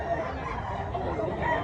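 A rooster at a chicken expo in Mantalungon, Barili, Cebu gives faint crowing and clucking calls amid a low crowd murmur.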